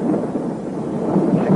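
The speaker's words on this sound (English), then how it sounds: "Did you hear it? Thunder?" Thunder rumbles low and sustained, a distant rolling growl that swells slightly toward the end of the brief moment.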